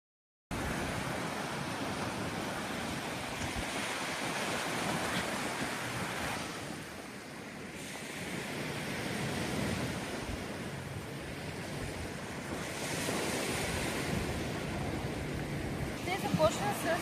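Waves washing onto a seashore beside the sea, with a steady breeze rushing across the microphone, a continuous broad wash of surf that dips briefly midway and swells again, no talk heard.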